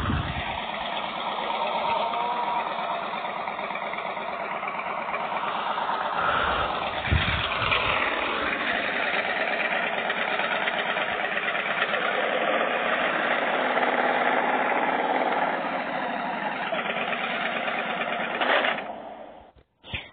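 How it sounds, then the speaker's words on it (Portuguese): A Victory Vegas 8 Ball motorcycle engine idles steadily for a long stretch, a constant mid-level rumble before cutting off near the end. "A próxima moto que eu vou mostrar pra vocês é a Victory Vegas 8 Ball."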